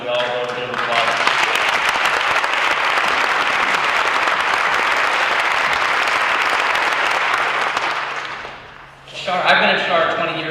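An audience at a tribute concert for Bob and Pam Phillips bursts into loud, sustained applause that fills most of the stretch, then fades briefly before a fresh swell of clapping near the end.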